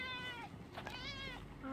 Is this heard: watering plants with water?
no